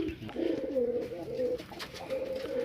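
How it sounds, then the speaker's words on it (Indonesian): A prized competition songbird dove coos in a steady, repeated series of soft, low notes, fairly close and alone without talk. "Jadi sebetulnya burung yang paling bagus di tim kami yaitu Petetan."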